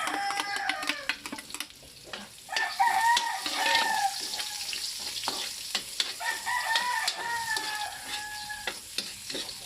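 Chopped onions sautéing in a pan with garlic nearby, a soft sizzle under intermittent stirring scrapes, while a rooster crows twice in the background.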